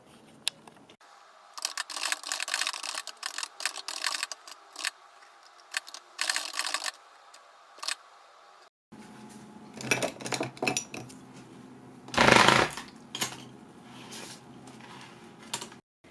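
Bursts of keyboard typing on a computer, with irregular clusters of key clicks separated by pauses, fairly close and moderately loud, and a louder clattering burst near the end; no speech.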